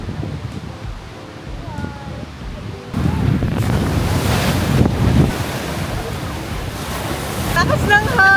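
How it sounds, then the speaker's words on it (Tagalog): Strong wind blows outdoors, roaring and buffeting the microphone, with waves and water washing nearby. The gusts surge louder after the first few seconds, and a voice is briefly heard. "Lakas ng hangin, my God!"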